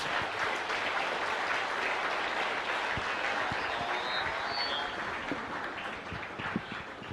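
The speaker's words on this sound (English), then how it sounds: "Please put your hands together once again for Secretary Ross." An audience applauds for Secretary Ross after his keynote at a U.S.-Ghana business forum, a sustained, fairly distant patter of many hands clapping that continues evenly for several seconds.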